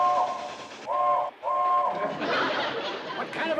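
A locomotive whistle sounds in three repeated blasts, steady and tonal, over a rumbling, noisy background.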